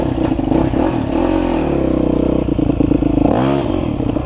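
A Kawasaki KLR motorcycle engine runs loud and close, a steady droning tone with a brief dip and rise in pitch near the end.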